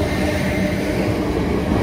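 A London Waterloo train rumbling steadily past the Summer Road level crossing at Hampton Court, Surrey, loud and close with continuous wheel and rail noise.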